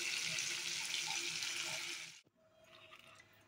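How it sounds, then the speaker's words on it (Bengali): Loud, steady sizzle of potatoes frying in hot oil, which cuts off abruptly partway through and leaves a much quieter background. "আলুগুলিকে ভেজে নিচ্ছি।"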